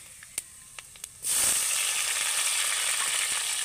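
Chopped tomato drops into hot oil already seasoned with a bay leaf, dried chilli and five-spice, setting off a sudden loud, steady sizzle after a few faint clinks of utensils.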